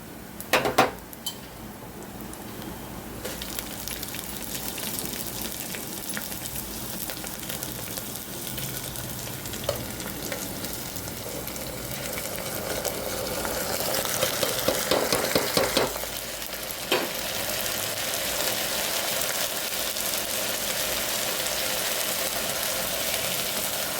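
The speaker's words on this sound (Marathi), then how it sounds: "याला थोडंसं परतून देऊया आपण." Browned onion and horse gram being sautéed in a pan: a soft sizzle underneath clinking and scraping of a utensil against the metal, with a clatter near the start and louder frying toward the end.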